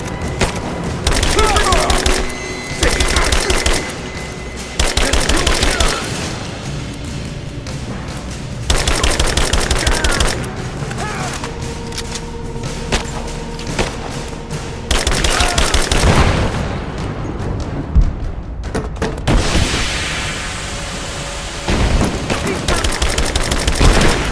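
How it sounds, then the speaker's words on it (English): Heavy gunfire from Rise of the Tomb Raider, loud sustained automatic bursts and booming shots in repeated waves with brief gaps, and shouted voices mixed in. "Open fire! I'm under fire!"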